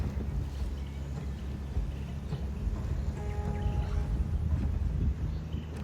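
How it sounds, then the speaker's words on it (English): Strong wind buffets the microphone outdoors beside a pond, a continuous rumbling gusty roar with faint irregular knocks underneath. "You can also hear in this footage it's really windy and some bird sounds."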